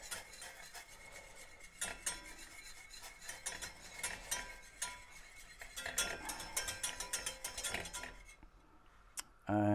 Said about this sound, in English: get a wee whisk and just give that a whisk up